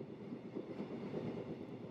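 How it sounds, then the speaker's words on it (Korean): A train runs along a railway track through wide rice fields in Yecheon, North Gyeongsang, in winter, giving a steady, fairly faint rolling rumble with no voices. "기차가 광활한 논을 지나는 철길을 달려간다."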